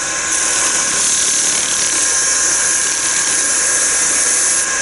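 Sandpaper worked against wood, the same paper also used to clean copper, gives a steady, loud, unbroken hiss throughout, with no voices.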